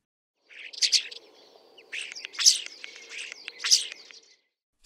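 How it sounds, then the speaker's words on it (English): Starling song, a run of bright chirps, whistles and rattly trills in three clear bursts with softer chatter between, close and alone. "starling"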